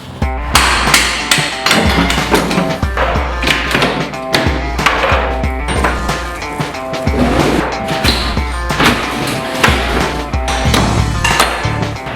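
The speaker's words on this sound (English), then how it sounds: "And Manny, he got to take a few shots with the sledgehammer." A sledgehammer tears apart the interior of a two-bedroom house during demolition, with loud, repeated heavy blows, crashing impacts and clattering debris coming in a steady rhythm close by and without speech.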